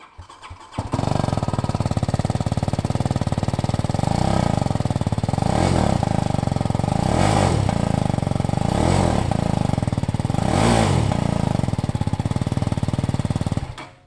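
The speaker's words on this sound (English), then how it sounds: "Let us talk about how well the GS sounds. Just listen to this first." A BMW G310 GS single-cylinder motorcycle starts up and idles with a buzzy, rattling exhaust, blipped with several short revs at regular intervals, loud and close.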